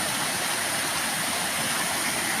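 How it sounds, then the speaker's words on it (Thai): Water pouring over a weir waterfall on a filled stream: a dense, steady roaring rush of water, loud and close, constant without breaks, with no voices. "ชมน้ำตก"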